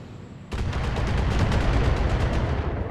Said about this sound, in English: I love this strategic artillery, like, across the map, kind of.